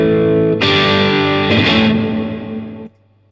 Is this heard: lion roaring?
no